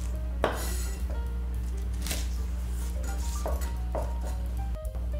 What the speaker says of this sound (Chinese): 另外这只青葱切葱花